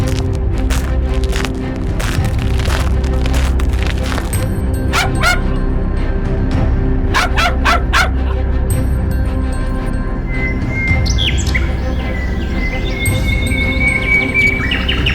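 Hunting dogs bark and yip in short bursts during a Hadza rabbit hunt in the bush, with birds chirping and calling steadily throughout and a busier stretch of birdsong toward the end.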